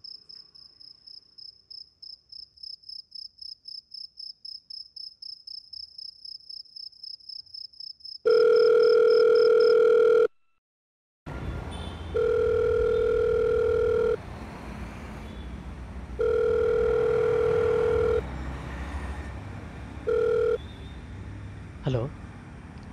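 Telephone call ringing tone: a fast pulsing chirp repeats for about eight seconds, then after a short silence a steady electronic tone sounds in long repeated bursts with gaps, loud and close.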